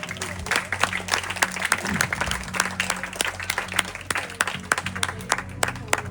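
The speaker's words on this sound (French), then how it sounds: "Et on les applaudit, bien sûr." Audience at a hypnosis show at a campsite applauding in dense, continuous clapping that holds steady throughout, with faint voices underneath.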